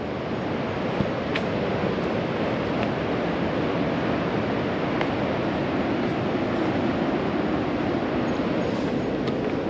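Ocean surf below a clifftop path in Bali, a dense continuous roar of breaking waves with wind, heard from a distance, steady and loud with no speech.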